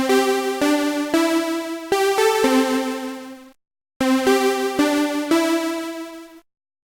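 A retro-style synth from a Serum patch plays a two-bar pattern of bright, buzzy, harmonically rich notes with sharp attacks, repeated a second time after a brief silence, alone and without voices.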